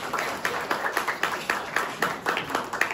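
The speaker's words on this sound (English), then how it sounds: "Round of applause for everybody." An audience applauds a performer named Denver Pickard, the clapping steady and moderately distant, with rhythmic hand strikes filling the whole stretch and no voices on top.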